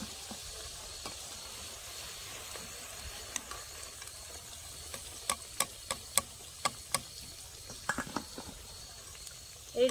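Goja sweets fry in hot oil with a soft, continuous sizzle, broken by a series of sharp clicks and taps in the second half, close and quiet.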